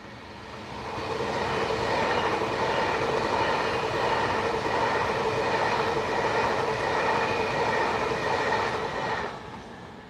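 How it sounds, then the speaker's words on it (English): Pendolino train passing on the slow line, a steady rushing roar with rail rumble that swells in after a second, holds for about eight seconds and fades at the end, heard from a moderate distance with no voices. "Another Pendolino on the slow line again."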